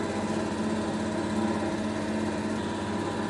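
A three-phase reluctance motor running with no load on a test bench gives a steady, even mechanical hum and whine with a constant tone and no changes or speech.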